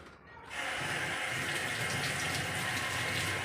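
Five Devgad Alphonso mangoes being rinsed under a running tap, a steady loud rush of water that starts abruptly and continues without a break.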